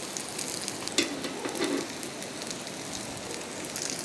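Pathrode, Udupi-style taro leaf rolls, frying in coconut oil on a hot tawa, a steady close broadband sizzle with small crackles and one brief louder stir or scrape, no voices.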